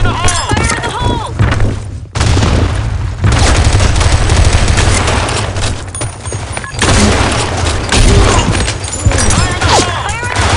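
Blackshot video game battle on the Sand Storm map with loud explosion booms and dense gunfire bursts, near and continuous, with game voice callouts and announcer lines over the shooting.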